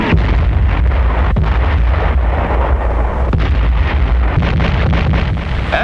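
A continuous barrage of World War II artillery fire, heavy booms rolling into one another for several seconds, loud and distant-sounding with wind rumble across the microphone in old archival footage.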